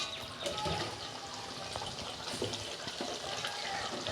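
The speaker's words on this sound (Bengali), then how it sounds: "আমি ঢেলে ফেলবো।" Aloo posto curry, a potato and poppy seed dish, being poured from a pan into a bowl in a home kitchen, giving a soft, steady wet sloshing and scraping that runs evenly throughout at close range with no talking.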